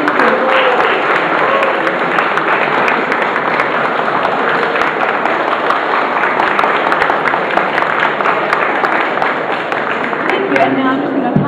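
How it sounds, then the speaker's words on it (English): An audience at a cosplay make-up awards ceremony gives sustained applause, a dense, steady patter of many hands clapping throughout, with voices mixed faintly in the crowd. "Another round of applause"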